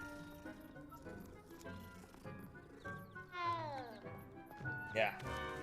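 A cat meowing in a wizard video game, several short meows with rising and falling pitch over background game sounds, with a person talking around them.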